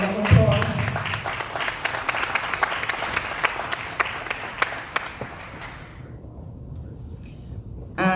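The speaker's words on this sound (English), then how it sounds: "let's give them another round of applause" An audience at an academic symposium claps for secondary-school essay competition participants, a dense burst of applause that carries on for several seconds before thinning and dropping away, with a brief voice near the start.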